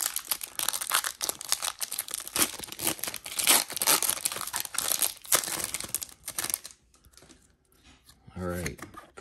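Crinkling and tearing of foil wrapping as a Pokémon TCG Lost Origin booster pack is opened, close and busy for several seconds, then fading to quiet with a brief low tonal sound at the end.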